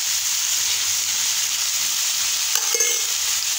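Food frying in a pan is stirred and mixed, giving a constant bright sizzle with a few soft scraping touches partway through.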